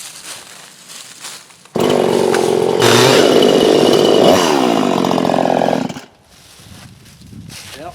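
A Husqvarna 345 chainsaw converted to 350 spec for firewood cutting idles, then screams at full throttle for about four seconds before dropping back to a rough idle, loud and close.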